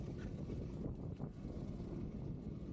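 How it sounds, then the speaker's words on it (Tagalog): Strong, cold wind buffets the microphone during a bike ride on the Al Hudayriyat cycle track in Abu Dhabi, a dense, continuous low roar that stays close and loud with no talk. "Grabe yung hangin, yung lamig."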